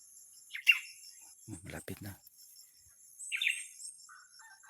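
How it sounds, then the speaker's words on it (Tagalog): A small bird calls out in the mountains with two bright chirps, one near the start and another a few seconds later, separated by a short burst of talk from a person nearby, with faint insect-like buzzing in the background. "Malapit na yung ibon."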